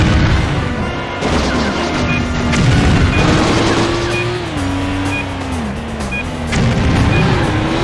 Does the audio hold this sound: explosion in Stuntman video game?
yes